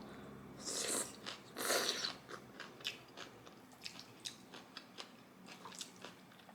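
Someone eats spicy green onion kimchi at close range, with a couple of loud wet bites followed by a steady run of smaller crunchy chewing sounds, fairly quiet overall.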